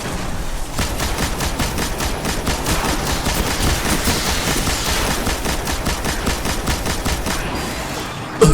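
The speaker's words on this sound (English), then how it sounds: "I found that a heavy machine gun is a really effective weapon in this scenario" A heavy machine gun in the video game Destiny fires in one loud, unbroken rapid burst for several seconds, the dense rattle of shots filling the scene with no pause.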